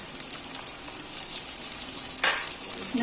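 A chopped medium-sized tomato goes into a hot pan with oil and starts sizzling, a steady crackling hiss with one louder burst near the end, close by and without speech.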